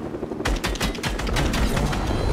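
Rapid gunfire in the Fortnite video game, played on the Nintendo Switch, breaks out after a short pause into a dense, close burst of repeated shots with a steady rhythm that lasts to the end.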